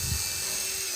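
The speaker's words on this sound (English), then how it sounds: "So let's drill it out to her." A power drill bores steadily through lattice with a continuous high-pitched whine, close and fairly loud, for a short burst.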